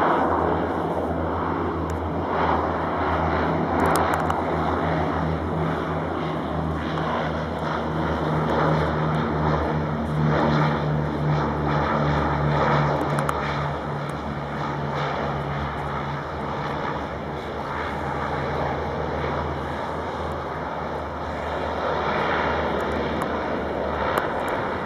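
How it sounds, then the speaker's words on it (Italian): Canadair firefighting airplane near Taormina droning overhead with a steady, loud propeller engine roar that holds throughout, close and without talk. "Canadair, un aereo formidabile."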